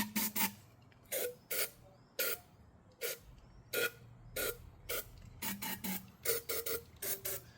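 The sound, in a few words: aerosol release spray being sprayed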